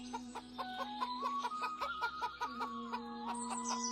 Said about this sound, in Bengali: দাদা দেখো, তোমার জন্য একটা মুরগি নিয়ে এলাম।